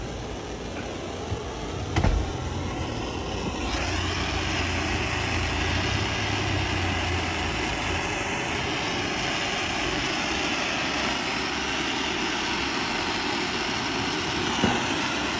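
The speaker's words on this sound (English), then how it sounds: "Heat up that generator a little bit." A generator running outdoors at night in fog at a cooking setup, giving a steady loud droning engine hum that holds unchanged throughout, with a faint thump early on.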